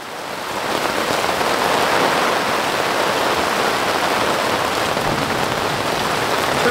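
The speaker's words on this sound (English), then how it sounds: "It's raining" Heavy rain pouring down at a creekside campsite at Frog Bayou, a loud, dense, continuous hiss of drops on surfaces with no voices.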